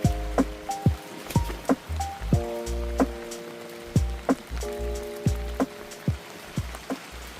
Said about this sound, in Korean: 1시부터 비가 오더니 다행히도 준비를 잘 해놔가지고